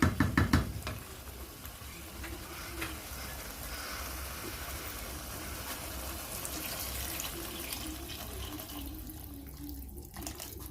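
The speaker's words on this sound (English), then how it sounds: "So this stage I'm going to add in my 3 glasses of water." Water pours steadily into a cooking pot for pilau, with a continuous splashing rush, close by, preceded by a few knocks and fading out near the end.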